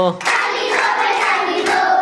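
Claps from a children's group clapping song ring out loud and near, a continuous rhythmic patter of hands with a faint crowd feel, and nobody speaks over it.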